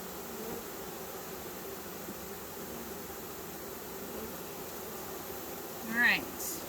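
Honeybees from a package just installed into a hive give off a low, steady buzzing drone throughout, with a brief louder rustle near the end.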